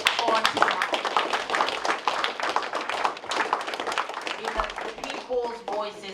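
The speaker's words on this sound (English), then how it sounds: "I ask that you guys give yourselves a round of applause on tonight." A crowd at a people's State of the City gathering in Knoxville gives itself a round of applause, dense rapid clapping sustained throughout with voices mixed in and a few louder thumps near the end.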